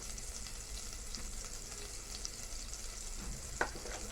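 Butter and a little oil frying in a pot for vegetable soup give a soft, steady sizzle throughout, quiet and close, with a brief clink near the end.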